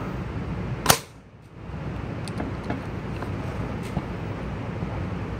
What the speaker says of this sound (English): This is my Bushmaster A3 unsuppressed.